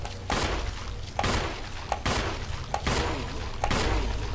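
Gunfire in the survival-horror game Resident Evil HD Remaster, five sharp shots spaced roughly a second apart, each a loud broadband crack over a steady low in-game background rumble.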